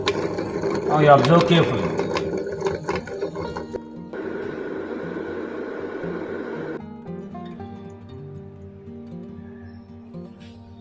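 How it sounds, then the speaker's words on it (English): A laboratory centrifuge holding test tubes hums with a steady mechanical whir that holds for a few seconds and then fades. Someone speaks at the start, over clattering mechanical sounds. "Now I am switching on the centrifuge machine."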